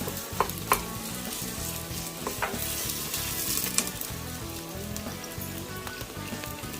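Ground garlic and ginger paste hitting hot oil with golden-browned fried onions, a continuous crackling sizzle with occasional sharp pops and stirring scrapes, close and fairly quiet.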